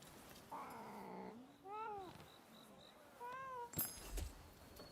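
A cat meows several times: a drawn-out, wavering cry, then shorter rising and falling mews, moderately faint over a hissy background with a brief knock near the end.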